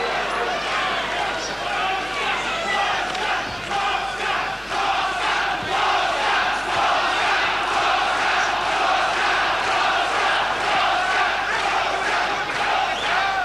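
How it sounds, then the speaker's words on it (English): A crowd at a kickboxing fight grows animated during round three, a steady dense roar of shouts and cheering that holds loud throughout, with talk mixed in. "And the crowd starting to get animated too"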